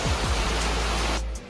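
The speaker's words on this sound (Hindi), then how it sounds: "मेन झरना" A main waterfall at Geparnath roars with a loud, steady broadband rush, close by and alone, then drops off abruptly near the end.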